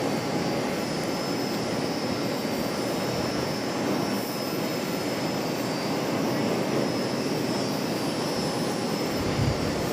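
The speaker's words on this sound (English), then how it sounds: "Envoy 3464 coming in from Hilton Head Island, the E175LR" An Envoy Embraer E175LR jet arriving from Hilton Head Island, heard from an airport parking deck on a hot afternoon as a continuous, even jet-engine roar, fairly loud and steady, with no talking.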